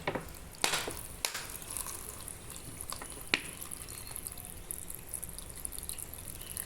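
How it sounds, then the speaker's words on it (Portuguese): Water is poured onto a clay soil clod, making close, soft splashes and trickles. A few sharp drips and taps stand out against a quiet background. "E vou jogar mais água."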